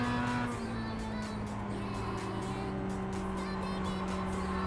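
Race car in the iRacing sim game approaching a braking zone, a steady sustained engine drone with tonal harmonics shifting in pitch as it slows and builds speed again, loud and continuous with no talk.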